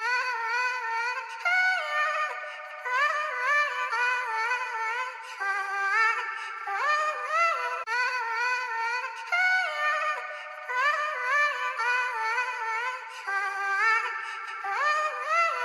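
Cymatics Free Spirit vocal loop, pitched down and back up an octave and chopped into short sung phrases, repeating as a steady melodic loop of high, bright, airy vocal fragments with no other sounds.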